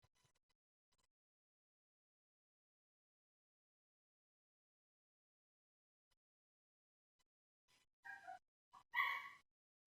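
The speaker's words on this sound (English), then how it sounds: "I apologize for the dog barking in the background." A female dog barks a few times in the background, quiet and somewhat distant, after a long stretch of near silence.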